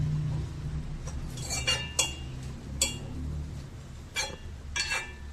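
A metal lid is set over a cooking pot in a traditional Kerala kitchen, producing several faint, sharp clinks and taps spread unevenly across a quiet background.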